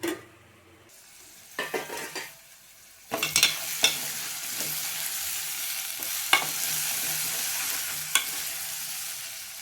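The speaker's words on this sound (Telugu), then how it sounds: "ఇంకొక ఐదు నిమిషాలు ఫ్రై కానిద్దాం" Alchanthakaya curry fries in a pan over medium flame, a steady broad sizzle that swells when the lid is lifted, with a few clinks and scrapes of a utensil against the cookware and no speech.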